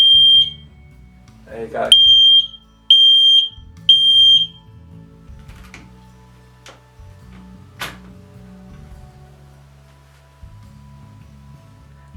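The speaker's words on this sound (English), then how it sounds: "10-year life smoke alarm with thermo pack" A 10-year-life smoke alarm with a thermo pack sounding piercing, close beeps when its test button is pressed: a single beep, then a burst of three short blasts, followed by quiet handling noises and a few words of speech.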